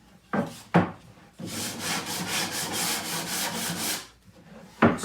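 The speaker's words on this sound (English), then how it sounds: "I like to take a sanding block." Sanding block rubbing along the cut top rail of a wooden horse, a steady rhythmic scrubbing run of about three seconds, close and clear, framed by a couple of sharp knocks before and a thump at the end.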